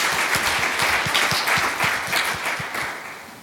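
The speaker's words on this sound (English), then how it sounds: "can we have another round of applause" A conference audience gives a sustained round of applause, a thick wash of many hands clapping that fades slightly toward the end.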